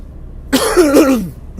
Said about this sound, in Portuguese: estou um pouco com tosse